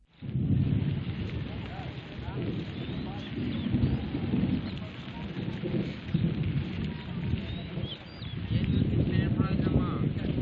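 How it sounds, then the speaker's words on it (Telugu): Heavy rain with gusty winds pours steadily in Hyderabad while low thunder rumbles in rolling waves underneath, loud and continuous throughout. "ఈదురు గాలులతో కూడిన అకాల వర్షం హడలెత్తించింది"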